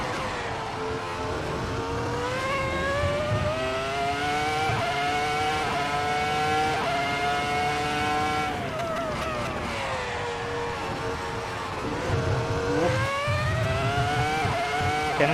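A vintage Formula 1 car engine in a racing video game screams at high revs, rising and falling with gear changes. It runs as a steady, moderately loud whine with no one talking.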